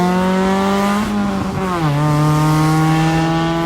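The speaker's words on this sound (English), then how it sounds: "Here is a clip of what it sounded like completely straight piped." A Mazda Miata with a straight-piped exhaust and no muffler idles loudly up close, a raw, buzzy drone with a brief dip and blip in revs midway.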